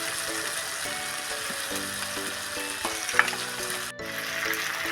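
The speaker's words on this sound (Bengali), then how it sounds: "আমি এখানে সবজিটা ভেজে রেখেছিলাম সবগুলো দিয়ে দিচ্ছি।" Fried vegetables tipped into a pan of spice paste for paneer shukto, sizzling steadily up close and stirred, with a background tune playing throughout.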